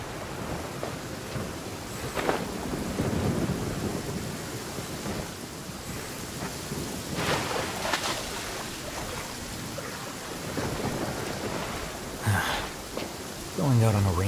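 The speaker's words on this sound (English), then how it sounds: "Going out on a rainy day is the worst." Steady rain with rumbles of thunder in the Genshin Impact game world, a continuous wash of falling water with a few louder thunder swells, and a brief tonal sound near the end.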